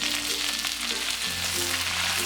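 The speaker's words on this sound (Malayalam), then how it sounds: "തേങ്ങ ചെറുതായിട്ട് അരിഞ്ഞത് ഇത്രയും ചേർത്ത് നന്നായിട്ടിത് വഴറ്റി കൊടുക്കാം" Chopped coconut and curry leaves sautéing in a pan for beef varattiyathu, a Kerala-style dry beef dish; continuous bright sizzling and crackling of oil, steady and close, with no talking.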